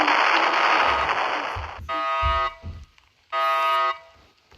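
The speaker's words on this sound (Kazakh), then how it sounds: "Bir жерде жарылыс болды." A noisy explosion bursts out at a bank in the Roblox video game, a loud roaring blast that fades before two bright, buzzing alarm-like tones sound in separate bursts.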